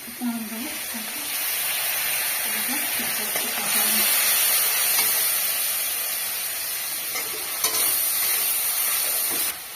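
Spices with bay leaf and turmeric sizzling in a pan in a village kitchen, a continuous close frying hiss with some stirring, with a voice speaking faintly at the start.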